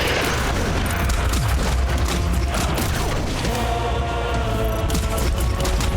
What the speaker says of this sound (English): we're gonna start off with a missile launch